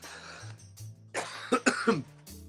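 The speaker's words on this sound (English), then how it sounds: "They make me cough a little bit." A person coughs several times in a quick cluster after smoking cannabis, with a few short throat sounds and breaths around them, fairly close.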